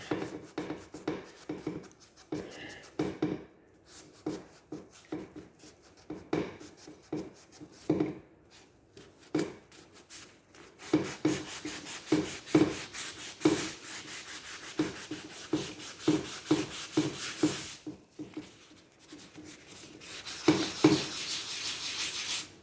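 A sanding pad rubbing down primer on a Honda ST1100 panel, making quiet, rhythmic scratchy strokes in steady back-and-forth bursts, growing busier and denser in the second half.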